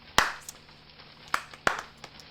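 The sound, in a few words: clapping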